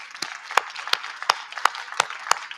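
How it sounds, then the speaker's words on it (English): Sparse, evenly spaced claps, about seven sharp hits in a steady rhythm, fairly close, from a small audience thanking panelists at a Rio Conventions Pavilion panel event. "please join me with a big applause to thank you to our panelists"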